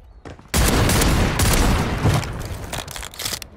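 Sustained bursts of automatic gunfire from a Call of Duty Warzone match on Rebirth Island, loud and rapid, starting abruptly after a few isolated shots and tapering into scattered cracks.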